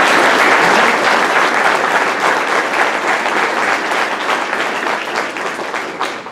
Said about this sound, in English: I would suggest that this club give your president a rousing round of applause